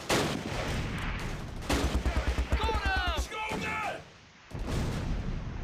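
Rapid bursts of gunfire crackle in the World War II tactical game Close Combat: Last Stand Arnhem. They sound loud and close in a dense cluster, with voices heard during and after the shots.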